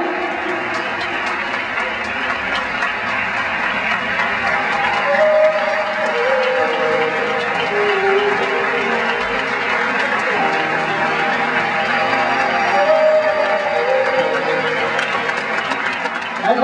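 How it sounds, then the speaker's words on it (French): An arena audience applauds a figure skater after her exhibition program at the 2010 French Nationals, a steady, dense wash of clapping and crowd noise lasting throughout while an announcer talks over it. "sous vos applaudissements"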